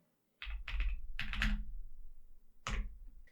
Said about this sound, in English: if I open my terminal and type in Ollama